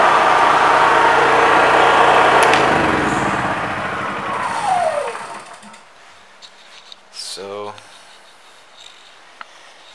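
Honda EU3000iS inverter generator running at full power while powering a heater, a loud steady engine hum at first that fades out, followed by quiet background with a brief passing sound.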